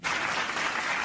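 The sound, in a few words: applause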